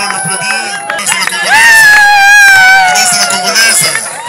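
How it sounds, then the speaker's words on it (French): Guests at a traditional Congolese wedding cheer and shout for the groom, a loud, close crowd swell with overlapping voices and music underneath, clapping not clearly distinct. "On applaudit le marié"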